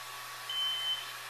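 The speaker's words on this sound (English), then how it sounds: "now we have the alarm, and it switched states" A brewery automation controller sounds a single brief, thin electronic beep as a mash step switches states, faint over a steady background hum.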